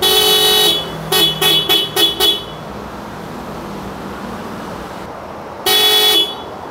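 An upgraded dual horn on a Yamaha Aerox V2 scooter blares close and loud in a long blast. A burst of five quick toots follows, then quiet, and one final sustained honk.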